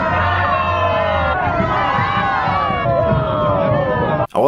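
A dense Karneval street crowd yelling and cheering all at once, loud and sustained shouting voices overlapping for several seconds before a brief cut near the end.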